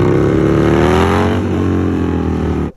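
A Harley-Davidson Sportster motorcycle engine revs loud and close, a thick rising roar held for a couple of seconds that fades slightly, then cuts off abruptly at the end.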